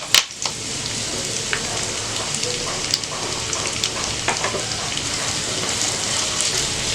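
Onions and curry leaves fry in hot oil in a kadai with cinnamon and cloves, giving a dense, steady sizzle with scattered pops and crackles. The sound is close and continuous, with no speech.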